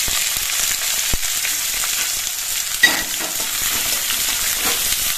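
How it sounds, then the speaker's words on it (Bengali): Sliced onions dropped into hot mustard oil give a strong, steady frying sizzle with a single clear clack of a utensil midway and no talking. "সর্ষের তেলটা গরম হয়ে যাওয়ার পর এর মধ্যে আমি কোচানো পেঁয়াজগুলো দিয়ে দিচ্ছি"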